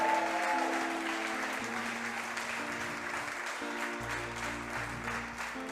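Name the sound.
church congregation applause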